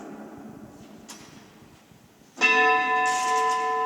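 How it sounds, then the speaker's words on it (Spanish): A clock tower bell in a town square strikes the quarter hour loudly after a quiet stretch, its rich metallic tone ringing and sustaining with bright overtones, close by. "cuando le pasemos al cuarto, tocará esta campana"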